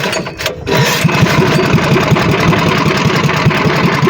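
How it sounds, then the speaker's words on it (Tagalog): A small fishing boat engine in Palawan cranks briefly, then catches and settles into a steady, loud, chugging idle that runs to the end. "makina paandarin ko na"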